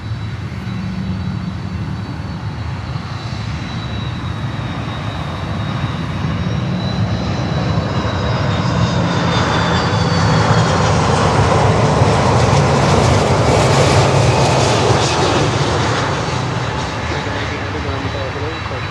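A KLM airliner arriving on runway 9 at Miami airport, its jet engines a loud continuous roar that swells midway through and stays heavy to the end, with a person talking over it.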